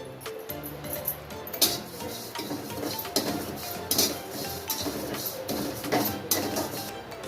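Cumin seeds dry roasted in a pan, heard as close metallic clinks and scraping from a spatula against the pan in uneven bursts, with a faint rustle of seeds between strokes.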